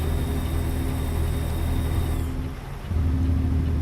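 Modded SES truck engine in American Truck Simulator, a steady low droning rumble that dips briefly as if shifting gears, then resumes at a similar level, no talk over it.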